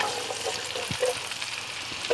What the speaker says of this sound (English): now, we're going to start sweating down our onions